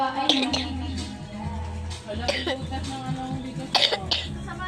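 A few short coughs break through a steady hum of background music, close by, spaced unevenly over several seconds.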